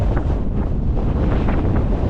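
Strong wind roars without a break across the exposed summit of Ben Wyvis in Scotland, buffeting the microphone with loud, steady low rumbling and no voices.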